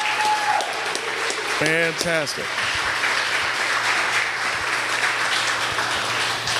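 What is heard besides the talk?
audience applause at event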